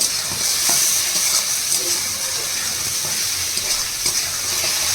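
Spices with turmeric are sautéed in a hot pan, giving a loud, continuous sizzle and hiss close up. Occasional stirring scrapes and light taps sound throughout.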